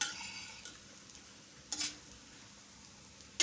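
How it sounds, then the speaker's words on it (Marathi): Paneer, potato and pea snack shallow frying in a little oil over a low flame, a soft steady sizzle with a few light utensil scrapes and clinks, faint and close, no talk. "मंद आचेवर हे हळूहळू छान असे शालो फ्राय करायचे"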